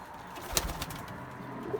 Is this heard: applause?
no